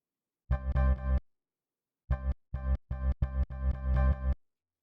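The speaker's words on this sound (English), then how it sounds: "So with the sample was just these little short little chops." Short Jersey Club sample chops play back in Serato Studio as punchy, clipped blips. A quick burst of three sounds, a pause, then a rapid rhythmic run of several more, loud and close, with no talk.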